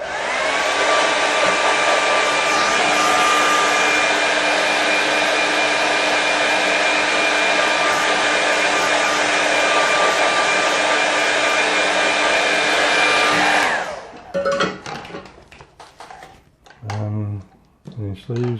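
A hair dryer blows loud and steady on a watercolour landscape painting for about fourteen seconds, then cuts off, followed by a few soft knocks and a voice.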